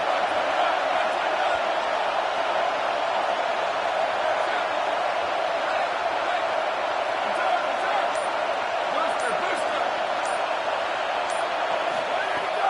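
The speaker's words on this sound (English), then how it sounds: "Manning trying to quiet this crowd." A packed stadium crowd roars at a Texas vs LSU college football game in Death Valley, a dense, sustained din of cheering that stays loud and unbroken throughout.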